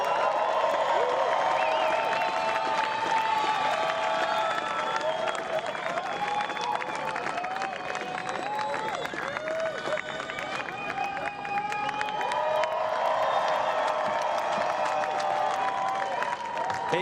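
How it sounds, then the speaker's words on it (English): A crowd at the Corona Open J-Bay surf contest finals applauding and cheering the men's champion, Ethan Ewing, with sustained clapping and shouts, while an announcer talks over it. "A very warm round of applause for your champion"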